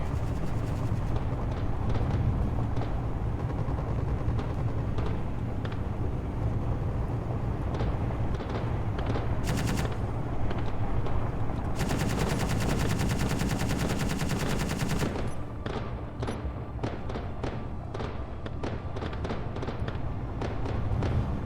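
Sustained automatic gunfire in Conflict Europa on an icy outdoor map, rapid cracking bursts with denser stretches in the middle, loud against a constant rumbling engine-like background.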